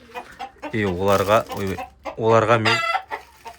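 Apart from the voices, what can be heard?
chicks in a chicken coop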